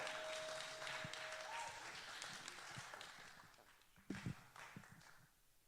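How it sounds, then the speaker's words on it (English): Faint audience applause at a theatre awards ceremony as an award winner comes forward, a soft wash of clapping with a few louder nearby claps and thumps toward the end. "Please give her a round of applause as she comes to receive her award"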